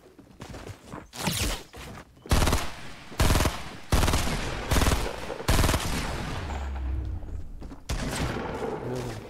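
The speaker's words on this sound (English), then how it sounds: "Oh crap, I got shot at." Bursts of Fortnite gunfire ring out in several loud, separate volleys of rapid automatic shots, each roughly half a second long, with a sustained rumble of noise between them and no speech.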